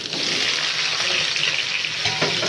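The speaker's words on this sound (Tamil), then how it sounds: "இப்போ நம்ம அந்த கருணைக்கிழங்கை போட்டுக்கலாம்" Pieces of yam dropped into urad dal frying in hot oil: a loud, dense, continuous sizzle and hiss, close up, with a faint clink near the end and no voices.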